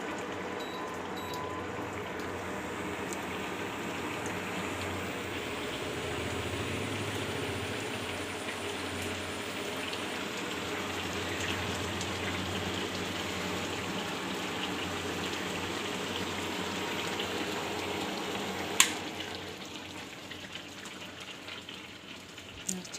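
Water splashed into a hot cooking pot on a stove sizzles in a continuous, soft, crackling hiss that tapers off slightly near the end, with a couple of sharp clinks.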